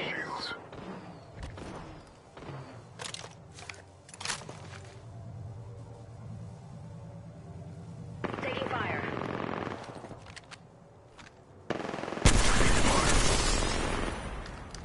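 Gunfire in a battle royale video game, scattered sharp shots and short bursts, some near and loud, mixed with quieter game sounds and spoken voices.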